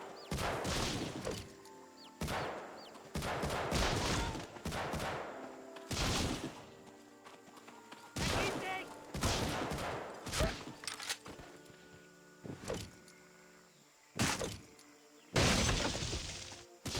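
Gunfire and shattering impacts in the 2002 PS2 first-person shooter Medal of Honor: Frontline, loud bursts of automatic fire and crashing breaks repeating in clusters every couple of seconds, separated by brief quieter gaps.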